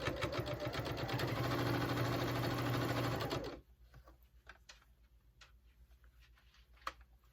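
A sewing machine runs a 1/8 inch top stitch through layered cotton on a homemade face mask, a steady loud whirring hum for about three and a half seconds, then stopping into quiet with a few faint ticks and clicks.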